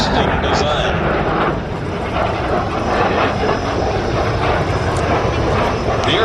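An airplane with a fly-by-wire control system roars past at the Abbotsford Airshow 2007, a loud, broad, continuous jet-like rush that holds steady for several seconds.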